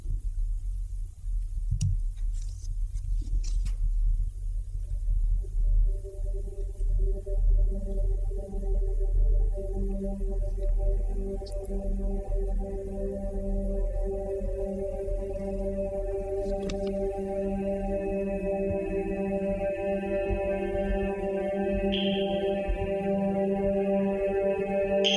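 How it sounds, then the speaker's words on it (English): Dense orchestral string glissandi from Xenakis's Metastaseis spreading into a sustained 46-note cluster, many held tones layered across the range and swelling slowly at steady loudness, with no voices. "the glissandi spread out to form a 46-note cluster"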